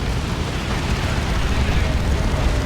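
A Tank Buster Barrage strike in Dawn of War 2 bursts into a dense, continuous roar of explosive rumble, loud and sustained across the whole stretch with no clear gaps between the blasts.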